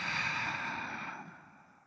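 A person in a hatha yoga session takes a deep breath in through the nostrils and lets it out through the mouth, one long, close, airy exhale that slowly fades away.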